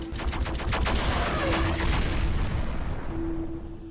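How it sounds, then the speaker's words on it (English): Rapid laser-like gunfire from a pirate spaceship in the video game Stellar Wanderer DX, a dense, continuous barrage of shots with a steady tone running through it, loud and close, with no talking. "Random pirate just started firing at me."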